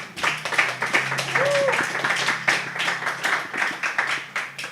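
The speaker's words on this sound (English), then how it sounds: "Round of applause." An audience claps in steady, close applause for several seconds, dense patters of hand claps with a faint voice briefly rising through the middle.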